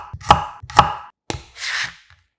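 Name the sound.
knife chopping onion and slicing garlic cloves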